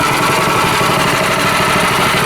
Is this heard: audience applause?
no